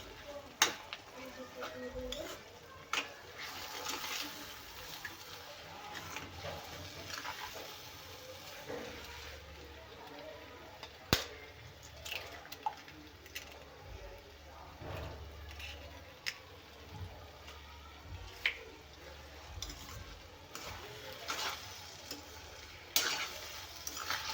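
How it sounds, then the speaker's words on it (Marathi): Eggs whisked in a bowl, a soft steady scraping and tapping that keeps going with small clinks throughout, fairly quiet in a home kitchen. "अंडी छान मिक्स करून घ्यायचे"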